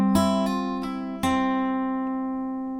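Acoustic guitar playing a lick, four bright plucked strums ringing out over a sustained chord that slowly decays, close and alone.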